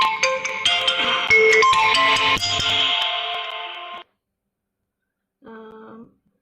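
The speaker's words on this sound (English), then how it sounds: "Okay, yes, I know I missed a call." A phone ringtone plays loudly at home for about four seconds as a bright, busy electronic melody, falls silent, then sounds again briefly and more softly.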